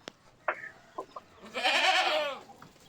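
Goats bleating at a village livestock farm, one long wavering bleat rising loud and near after a few shorter calls and knocks, with no talk.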